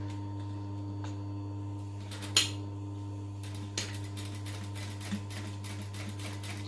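Sewing machine stitching fabric at a 3 3/4 stitch length, a steady mechanical hum with a few sharp clicks and knocks from the machine, close and alone.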